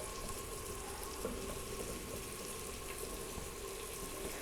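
Water runs off boiled spinach held above a bowl, a soft, continuous trickling and splashing that stays faint and steady for a few seconds, with no talking.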